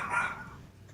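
Dogs bark in the background of a home gaming session, a single loud, rough bark opening the second and then fading into a quieter tail, with no talk over it.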